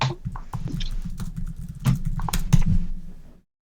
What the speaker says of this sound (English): I was sitting there typing away